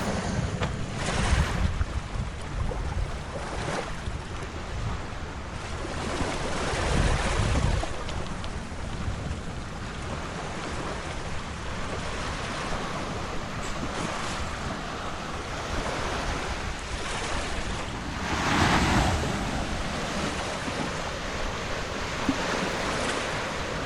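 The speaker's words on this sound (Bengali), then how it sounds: "ঢেউগুলো কি সুন্দর! ঢেউগুলো যখন তীরে আসতে পড়ে" Ocean waves breaking on a Maldives beach, continuous surf wash with louder rolling swells surging every few seconds, mixed with wind buffeting the microphone and no talking.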